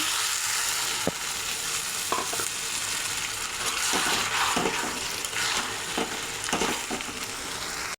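Banana flower curry with fried fish heads sizzles steadily in a hot pan as a little hot water goes in, a close dense fry hiss with a few stirring knocks and no speech.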